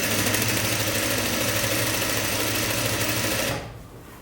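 A sewing machine hems the bottom of a jumpsuit, running in a loud, steady, rapid mechanical whir that stops abruptly near the end.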